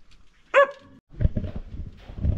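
A dog gives a single close, sharp bark, followed by low rustling and handling noises nearby.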